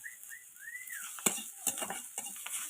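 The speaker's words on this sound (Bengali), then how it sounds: "আর আগে যা ভাজাভাজি করে রাখছিলাম সব একবার ভাজাভাজি করছি" Thankuni and coriander leaves fry in a pan with a faint steady sizzle, broken by a few sharp metallic clinks and scrapes of a spatula stirring against the pan.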